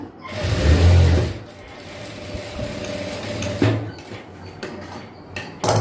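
A sewing machine stitches all the way around a pair of girls' night shorts, with a loud motor burst at the start and then a steady mechanical whir close by. Faint speech-like sounds come and go.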